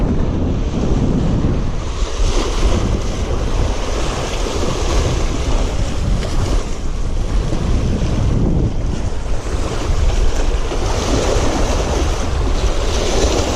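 Strong wind buffets the microphone over the steady wash of ocean waves, loud and continuous throughout.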